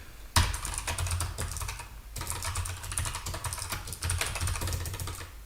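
Rapid typing on a new computer keyboard while setting up a programming project, dense clacking keystrokes in two bursts separated by a brief pause, close and fairly loud, with no voices.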